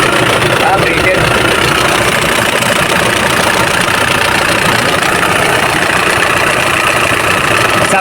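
An Isuzu Crosswind engine idling while being checked for an oil leak, a loud, steady, rough mechanical drone heard close up, with people talking over it.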